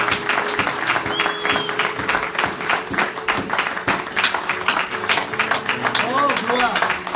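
Church congregation applauding and clapping steadily, a dense, continuous patter of many hands with crowd voices and shouts mixed in throughout.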